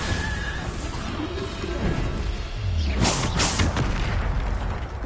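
Spell combat in Hogwarts Legacy, with a dense roar of magical whooshes and a heavy explosive boom around the middle as a Bombarda blast lands, followed by bursts and rumbling impacts under continuous noisy game audio.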